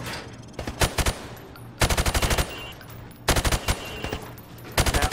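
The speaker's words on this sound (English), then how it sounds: "Now, shoot at the targets while firing from the hip." Rifle shots are fired from the hip at targets on a range in Call of Duty Warzone, arriving as three loud rapid bursts of automatic fire with short pauses between them, alone without talk.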